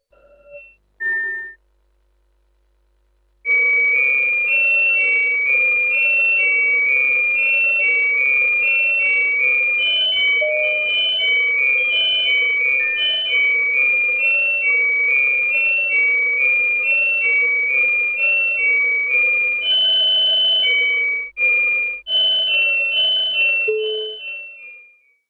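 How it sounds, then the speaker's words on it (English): Digital replica of Benjamin Franklin's glass harmonica plays a sustained, bell-like melody of overlapping pure tones for about twenty seconds, loud and close, after a brief switch-on tone and a pause. "This is a digital replica of the Glass Harmonica."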